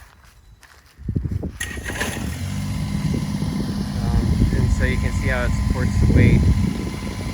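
A tractor drives slowly across a homemade wooden bridge over a creek, its steady engine rumble rising and holding close and loud beneath someone talking throughout.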